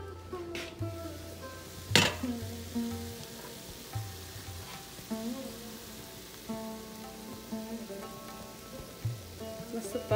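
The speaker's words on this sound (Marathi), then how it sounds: "हा पुदिना आणि कोथिंबीर मी आता टाकते भाजीमध्ये" Fresh mint and coriander go into a pan of frying cabbage, pea and potato vegetable curry, bringing steady close sizzling with a sharp clatter of a utensil against the pan.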